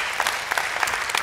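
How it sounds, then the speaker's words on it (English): An audience at a talk on depression claps, a short burst of dense applause from a crowd, close and steady. "let's clap for that before we go to the next one"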